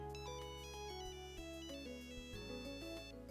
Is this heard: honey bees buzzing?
no